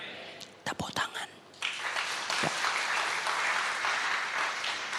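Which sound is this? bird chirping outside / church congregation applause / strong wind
church congregation applause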